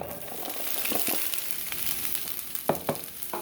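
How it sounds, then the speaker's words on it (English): A steady, loud sizzle of peppers and onions frying in a hot pan, with occasional scraping and stirring clatter. "when we throw in our peppers and onions, we should hear a sizzle."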